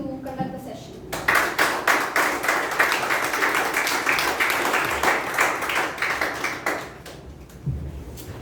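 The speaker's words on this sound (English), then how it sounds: "With a loud round of applause, please welcome BTM Shivada's uncle to conduct the session." Steady crowd clapping fills most of the stretch, a dense round of applause that builds quickly and fades out near the end.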